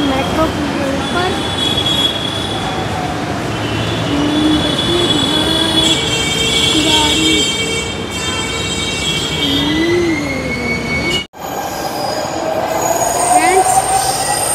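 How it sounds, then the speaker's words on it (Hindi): Metro train departing from an elevated station, a loud continuous rumble with squealing wheels and shifting metallic whines, up close and filling the whole stretch. "हाँ, मेट्रो चली गई, दूसरी मेट्रो आने वाली है 2 मिनट के बाद"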